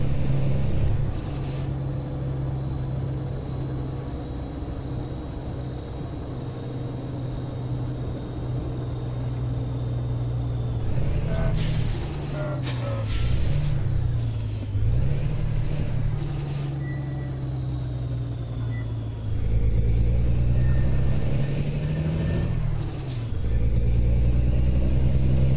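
A Peterbilt 387 truck in the game Euro Truck Simulator drives with a deep steady engine drone that rises and falls with revving and gear changes, with short bursts of hissing air brakes.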